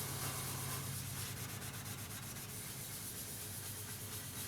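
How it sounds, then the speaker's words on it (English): Steel wool scrubbing an oiled, rusty lathe bed makes a steady, close, gritty rubbing with repeated back-and-forth strokes, heard alone. "take your 2/0 steel wool and start working with the oil"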